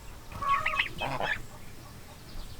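Geese and a turkey on a farm calling in a short cluster of honks and gobbling notes up close, followed by quiet outdoor background.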